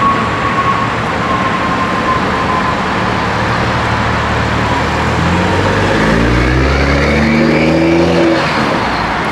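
A Toyota MK5 Supra engine with a downpipe rumbles steadily, then revs up hard with rising exhaust roar, loud and close, no voices.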